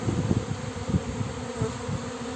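A swarm of honeybees buzzing near hives, a dense low droning hum with fluttering pulses as individual bees pass close, steady and continuous without speech.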